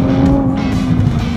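Supercar launching hard from a standstill, a loud, close engine roar with a steady tone surging forward, brief and continuous with no talk.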